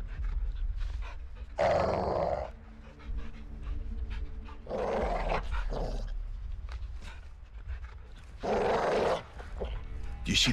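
A big caged dog in a Modern Warfare II level growls and pants close by in repeated bursts, three louder snarling outbursts separated by low rumbling growls and heavy breathing.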